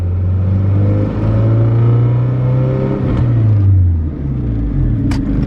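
A Honda Civic with a Type R engine swap runs on a dyno under light throttle around 2,500 RPM, giving a steady, loud, close engine drone whose pitch rises gently as the gas is eased in, with no talk.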